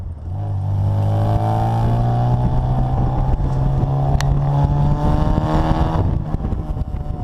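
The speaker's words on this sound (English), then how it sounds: "That's our twin tip muffler that sounds so wonderful." Supercharged 1959 Austin-Healey Bugeye Sprite engine running through a twin-tip muffler exhaust, a loud, steady droning note with a slow rise in pitch as it revs, heard close and alone.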